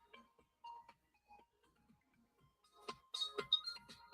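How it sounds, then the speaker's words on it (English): A mobile phone rings with a tonal ringtone during a live diamond painting craft chat, starting partway through and sounding close and moderately loud over faint room sounds. "And there goes my phone."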